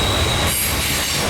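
A mixed freight train, loaded auto racks included, rolls past close by on a Norfolk Southern line north of Winston-Salem, wheels grinding and squealing steadily against the rails in a loud continuous wash of noise.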